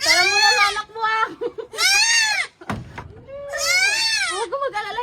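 A goat bleats loudly and close in long wavering cries, three main calls with shorter bleats between and a sharp knock in the middle.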